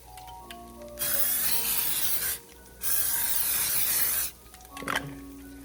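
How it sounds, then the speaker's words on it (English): Two steady hissing bursts of cooking oil spray onto a pan, each lasting over a second, separated by a short pause, followed by a faint clatter. "I'm going to spray a little bit more oil on the pan."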